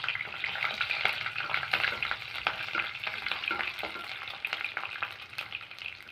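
Garlic sizzling steadily in hot oil with popped mustard and fenugreek seeds, a dense bright crackle with occasional louder spits and stirring scrapes, close and continuous with no voices.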